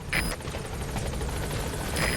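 Helicopter in the Metal Gear Solid V video game arriving at a landing zone, a steady rotor drone with rhythmic blade chop filling the whole stretch at close range, brief higher tones chirping at the start and end.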